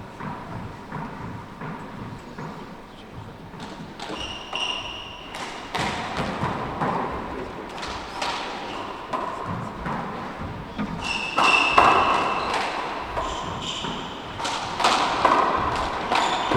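Handball struck and bouncing in a 4-wall handball match at the Irish Nationals ladies final, sharp irregular thumps and slaps echoing off the court walls, some close and loud, with crowd and commentary murmur underneath.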